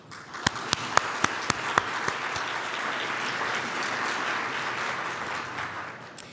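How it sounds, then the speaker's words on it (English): A room of attendees at a Connecticut public health meeting applauds, starting with a few sharp, separate claps that quickly merge into steady, moderately distant clapping lasting several seconds without any talk. "that deserves a round of applause"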